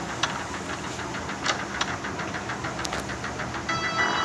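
A vehicle engine drives along in the Ice Scream video game, giving a steady, moderately loud chugging rumble with rhythmic knocking pulses and no speech over it.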